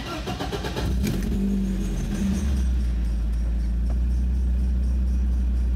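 A BMW E36 with newly installed engine and transmission mounts cranks and catches about a second in, then settles into a steady, loud, low idle rumble close to the microphone.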